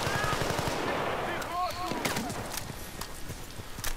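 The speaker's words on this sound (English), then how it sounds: "Who's shooting me?" Bursts of machine gun fire in Battlefield: Bad Company, a rapid rattling stream at first that fades into scattered distant shots, with a person talking over it.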